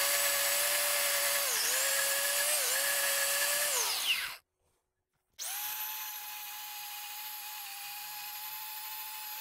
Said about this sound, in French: Donc je vais l'attaquer à la lime électrique.